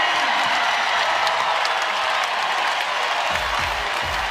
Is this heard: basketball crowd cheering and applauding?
yes